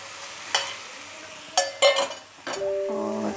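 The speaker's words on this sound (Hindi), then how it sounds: "अब हम डालेंगे जो हमने दूध अच्छी तरह से पकाया है, उसे मैं इसमें ऐड करूंगी।" Cooked milk being stirred into a coconut laddu mixture in a pan, with a few scraping clinks of the spoon and a soft sizzle underneath, the strokes spaced irregularly and heard up close.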